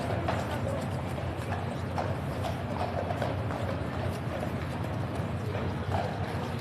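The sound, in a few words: King's Guard horses' hooves clip-clopping at Horse Guards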